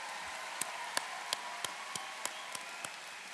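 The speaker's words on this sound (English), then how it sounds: "please join me in celebrating these remarkable graduates from Smithfield High with a well-deserved round of applause" At a Smithfield High School Class of 2026 graduation ceremony, a handful of faint, distinct hand claps sound at irregular intervals, sparse rather than a full round of applause.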